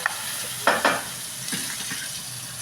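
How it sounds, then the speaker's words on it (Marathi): A Marathi-style phodni tempering sizzles in a pan while a raw jackfruit bhaji is being made, with a few sharp bursts of spitting oil over a steady hiss, heard close and without talk. "मी फोडणी करून घेते"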